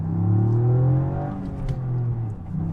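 Toyota Yaris GR engine heard from inside the car while driving, a loud steady drone with rising and falling harmonics as it revs and shifts, continuous throughout.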